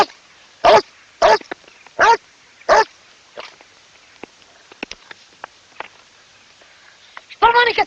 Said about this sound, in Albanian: Shpërmani këtë qenë.